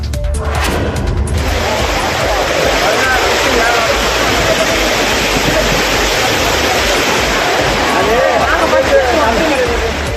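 The main waterfall at Courtallam in Tenkasi district, with floodwaters receding, roars as a loud, continuous broadband rush, close and unbroken, with faint crowd babble mixed underneath.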